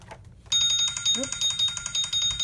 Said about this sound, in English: That was my timer.